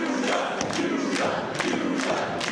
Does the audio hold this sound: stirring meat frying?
no